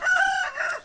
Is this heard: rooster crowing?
yes